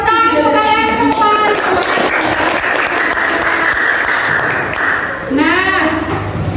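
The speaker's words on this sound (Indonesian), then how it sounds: "Oke, tepuk tangan untuk kalian semua." A sixth-grade classroom breaks into loud, sustained applause lasting several seconds, with a teacher's voice heard briefly before and after the clapping.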